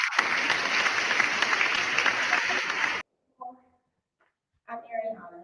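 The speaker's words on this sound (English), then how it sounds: "Rousing applause, snaps, claps, all of the things for Ariana" An audience at a youth poetry finals event breaks into applause and claps for a poet, a dense burst of clapping that cuts off after three seconds, followed by brief speech.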